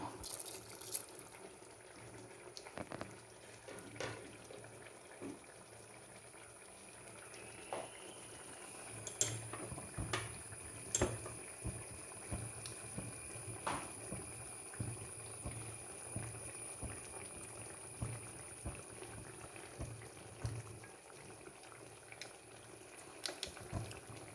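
Mustard seeds spluttering in hot oil in a pan on the stove for a roasted-coconut curry, faint scattered pops and crackles over a quiet low sizzle, close and sparse.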